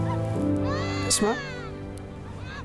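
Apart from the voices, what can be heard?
newborn baby crying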